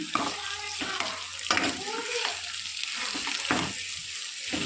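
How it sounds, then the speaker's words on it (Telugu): Potato curry being turned with a ladle in a pan, giving soft scraping and stirring strokes in repeated bursts over a low steady cooking hiss. "కూరని ఒకసారి గరిటెతో తిప్పుకోవాలి"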